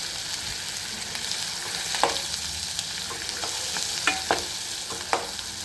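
Curry leaves and asafoetida sautéed in a pan for amla chutney, with a continuous close sizzle and crackle broken by several sharp clicks of a spatula scraping and stirring against the pan.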